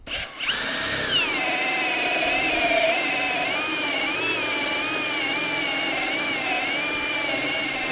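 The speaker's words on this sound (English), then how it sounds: "I'm going to drill this one in just first speed or mode speed 1 here, just to see if it feels a little bit different" A Milwaukee hole saw drills through material at speed 1, the higher-torque, lower-speed setting, giving a steady, loud, continuous whine with a rising start and slight pitch wobble as it cuts, with no talking.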